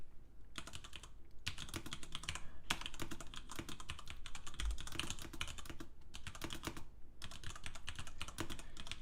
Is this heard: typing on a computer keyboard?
yes